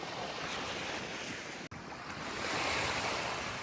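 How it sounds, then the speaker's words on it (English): Strong wind roars across the microphone at an open beach pass where water rushes through, with surf crashing steadily underneath, loud and continuous with one brief dropout. "Wind is blowing, probably not going to hear the audio."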